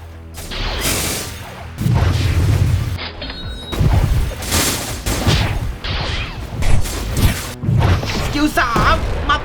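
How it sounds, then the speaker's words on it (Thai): A shadow explosion attack lands in the Roblox game Blox Fruits, setting off a rapid string of booms, crashes and crackling impacts that rise and fall in loud bursts over a voice talking. "ระเบิดเงาแล้วทำดาเมจเป็นดอทด้วยครับ"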